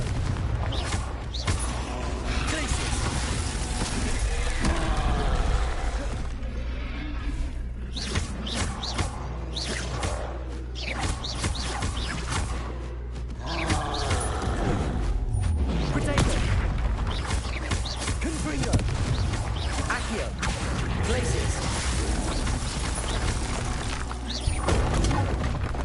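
Confringo blasting-spell explosions from the game Hogwarts Legacy on PS5, a dense run of booms and crashes that carries on through the whole stretch, loud and close, layered with game noise and voices.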